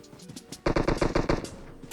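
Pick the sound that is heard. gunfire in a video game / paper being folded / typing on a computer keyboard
gunfire in a video game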